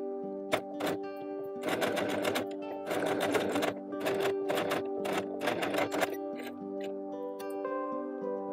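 A sewing machine stitches the seams of a small Blythe doll blouse in several rapid, whirring bursts separated by short pauses, close and steady with no talking.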